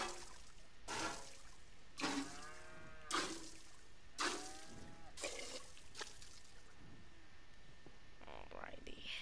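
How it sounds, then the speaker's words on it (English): Cow mooing repeatedly while being milked on a farm in Red Dead Redemption 2, several drawn-out moos in a steady rhythm up close, with faint trickling and a soft voice near the end. "Let's milk the cow."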